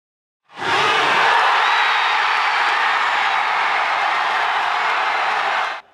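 A broad, even roar of applause and cheering swells from a crowd of Jeju residents gathered outdoors to watch Korea's U-20 World Cup football final, starting abruptly and holding steady for about five seconds before cutting off.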